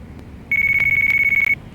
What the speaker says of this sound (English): I have a phone call. Mind if I take this?